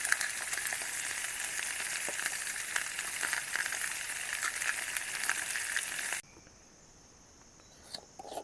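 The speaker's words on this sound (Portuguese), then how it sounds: "Vou colocar uma cebola" An onion fries in a pan over a campfire beside a river, a steady, fairly quiet sizzle that cuts off abruptly, leaving faint outdoor ambience and a small clink.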